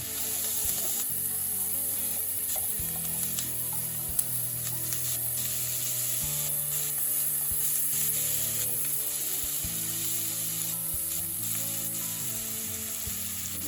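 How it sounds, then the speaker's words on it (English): About two tablespoons of butter melting in a pan for a brown gravy, a steady close sizzle with soft scraping and rubbing of a utensil stirring, continuous throughout with no talking. "Now to this, I'm going to add about 2 tablespoons of butter. Get that melting down."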